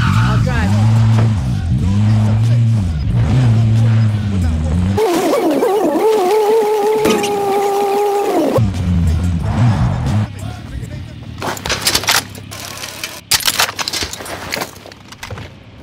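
Vehicle engine in the Warzone video game, a steady droning motor that revs up through gear changes, loud and close, with in-game radio voices and other game effects heard toward the end.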